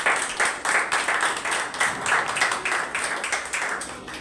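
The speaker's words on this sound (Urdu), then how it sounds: "یسوع کے جلال کے لیے تالیاں دو۔" A congregation claps in a church service. The claps are loud and land in a steady beat, roughly three per second.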